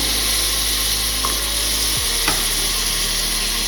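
Vegetables and potato stirred and sizzling in a pan with onion and ginger-garlic paste for veg pulao, a steady close frying hiss with a few spoon scrapes and no talk.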